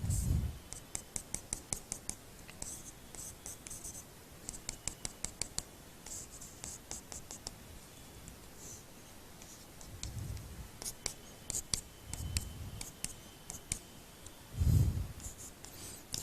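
A chemistry diagram of a xenon compound's bonded pairs is drawn on a board, giving rapid rhythmic scratchy strokes in repeated short runs, close and moderately loud, with a few low thuds and some speech.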